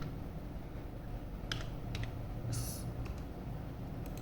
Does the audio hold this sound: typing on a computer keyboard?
yes